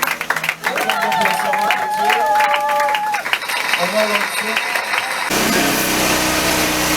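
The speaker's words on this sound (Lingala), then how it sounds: "on acclame très fort pour le Seigneur" A congregation at a prayer gathering at Camp Kokolo in Kinshasa claps and cheers loudly and continuously, with voices calling out and a sung or shouted line rising over the crowd noise.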